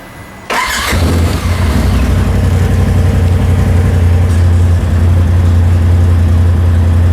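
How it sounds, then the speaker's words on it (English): A 2018 Polaris RZR Turbo XP engine cranks and catches after a short quiet lead-in, then settles into a loud, steady running drone close by for the rest of the clip. "Start it up, see if it goes."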